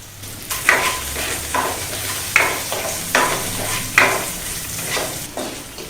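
Sliced onions frying in a pan for masala dosa, stirred steadily until light brown, with a constant close sizzle broken by several sharp scraping strokes of the spoon against the pan.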